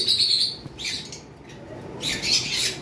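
Lovebirds in breeding cages give shrill, scratchy chirps and squawks in two bursts with a short lull between them, close and fairly loud, with no one talking.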